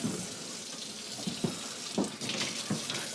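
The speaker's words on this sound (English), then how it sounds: "I'm gonna take some warm water," Lukewarm tap water runs from a faucet into a container, a steady hissing splash with small clunks, close and unaccompanied by talk.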